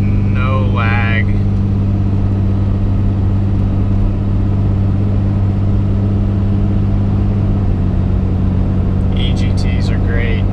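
A 2006 pickup with a 5.9 Cummins diesel pulls under light acceleration: a loud, steady low drone from inside the cab, with faint short chirps at the start and end.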